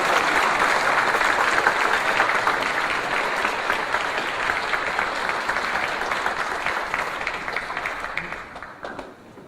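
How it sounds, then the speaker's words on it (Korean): Audience applause greeting a pastor as he comes forward at a church fellowship gathering, steady dense clapping from a large crowd that holds for several seconds and then begins to taper off. "여우성 목사님 나오실 때 박수로 맞아주시면 감사합니다"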